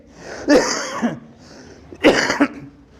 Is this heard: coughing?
yes